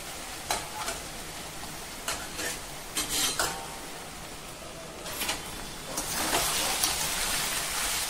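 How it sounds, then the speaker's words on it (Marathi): Onions stirred and sautéed in a pan until pinkish, for a poppy seed curry: a soft continuous sizzle with repeated scraping spoon strokes at an uneven rhythm, growing louder toward the end, close and without talk. "कांदा आपला छान गुलाबी रंगावरती परतवतोय आपण."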